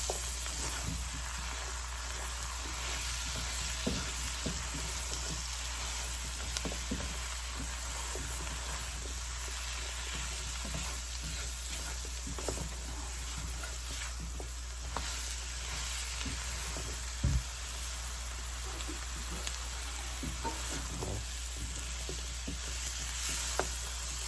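Chicken pieces fry in a hot pan for sweet and sour chicken, with a steady close sizzle and occasional crackles and stirring scrapes running unbroken throughout.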